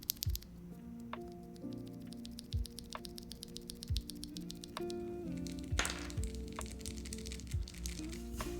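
Nixie mechanical keyboard switches, oiled and fitted with aftermarket springs, are pressed outside a keyboard, making close, crisp clacks in an irregular sequence with soft, faint background noise between presses.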